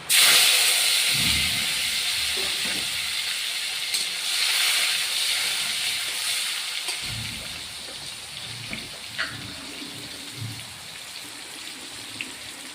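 Chopped tomatoes sizzle in a hot pan for ghugni, a continuous bright hissing sizzle that is loudest at first and then settles into a steady, slightly fading frying hiss with a few faint clinks.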